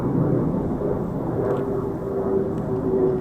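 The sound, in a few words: F-35 fighter jets flying high overhead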